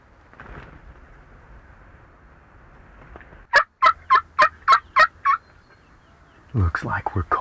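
Rio Grande wild turkey toms gobble in South Texas, a run of six loud, sharp gobbles in quick succession, followed by another burst of calling near the end.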